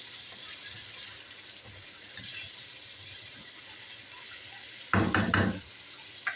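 A short splashing gush of a cup of water poured into sizzling minced meat in a pan, lasting under a second, over a steady background hiss of frying.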